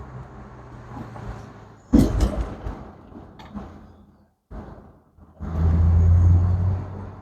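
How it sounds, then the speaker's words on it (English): A supercharged 2008 Ford Mustang Shelby GT500 convertible pulls under light throttle, its engine note rising in a loud surge, dropping briefly during a shift, then swelling again into a steady, droning hum. "Gotta love that supercharger noise."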